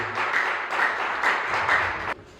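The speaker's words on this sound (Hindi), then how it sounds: "ਸਾਰੇ ਜਣੇ खुदा के कलाम के लिए तालियां के नाल उनका स्वागत करें।" Pentecostal church congregation clapping in welcome at a Sunday prayer service, several bursts of applause in steady waves that cut off abruptly near the end.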